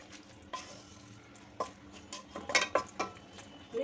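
Vegetables for a Bengali-style winter mixed-vegetable chorchori being stirred in a pan with a little hot water, giving soft scraping and clinking stirs that build to a busier cluster of strokes near the end, with no voices.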